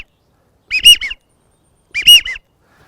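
Two loud whistled phrases, each a quick three-note series with a stronger middle note, separated by silence, blown on a waterfowl whistle to imitate a widgeon.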